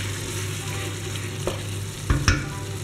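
Octopus cooking in a pan with a pinch of salt gives a steady, low frying sizzle with a couple of sharper scraping or stirring knocks near the end, and no voices.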